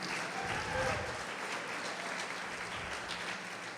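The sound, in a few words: congregation applause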